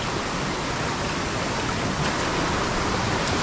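Sudden heavy monsoon rain pours down in Konkan, a dense unbroken roar of downpour and rushing water, loud and steady with no voices.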